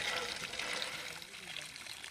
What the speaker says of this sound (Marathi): त्या 3 पॅनलद्वारे सबमर्सिबल पंपाद्वारे पाणी बाहेर पडते